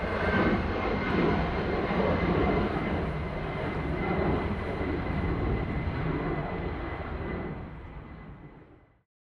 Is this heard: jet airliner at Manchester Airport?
yes